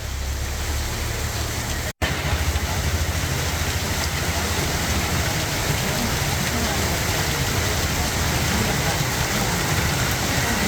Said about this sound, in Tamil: சென்னை புறநகர் பகுதிகள் மற்றும் ராமநாதபுரம் மாவட்டத்தின் பல்வேறு பகுதிகளிலும் பரவலாக மழை பெய்து